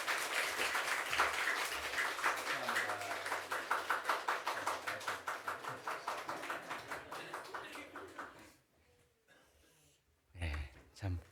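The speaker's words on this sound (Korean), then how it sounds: "여러분들이 큰 박수로 축하해 주시면 감사합니다." A church congregation claps together in congratulation during a confirmation service, dense applause that gradually thins into scattered claps before fading, then a brief burst of noise near the end.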